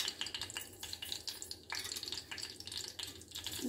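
Mustard seeds sizzling and crackling in hot oil in a pan, a steady close hiss with small scattered pops throughout, no voices.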